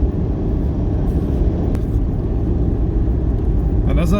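A 4x4 car driving on a beach in Gujarat, a loud continuous low rumble of engine and wind noise heard from inside the vehicle, steady throughout, with a voice talking over it.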